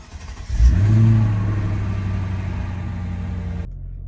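A Mercedes W210 sedan pulls away, its engine rising into a strong, close rev before settling into a steady hum as it keeps driving, with no talking.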